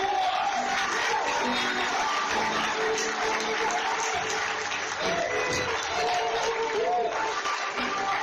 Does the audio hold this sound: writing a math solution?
no